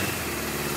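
An old, modified Kawasaki KZ motorcycle engine runs steadily, a dense continuous buzzing drone heard close and loud for under a second with no talking.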